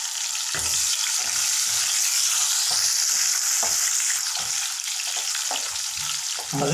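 Whole red chilies, kasuri methi, ginger and green chilies sizzle in hot oil for a tadka, a loud continuous crackling hiss punctuated by occasional stirring clatters, close up with no talk.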